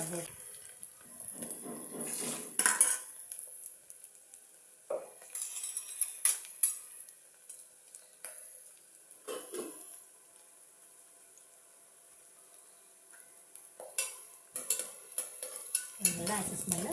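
Onions fry in oil in a pan while a spatula stirs them, scraping in short bursts over a faint, steady sizzle, with quieter gaps between the stirs.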